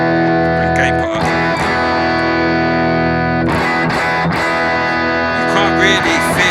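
Electric guitar run through a BOSS GT1000 Core with the gain raised, playing sustained distorted chords with a couple of sharp new strums, loud and thick with held ringing tones.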